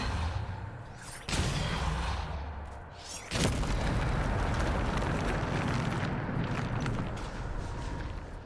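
Hogwarts Legacy spell combat with a Depulso blast: two sharp, loud bursts about two seconds apart ring out over a dense, roaring rumble of magical impacts and noise.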